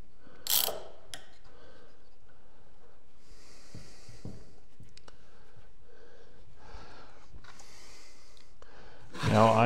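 A ratcheting clamp is cranked tight on a pine garden bench, with a few quiet mechanical clicks spread through a faint, near-silent stretch and a louder knock at the end.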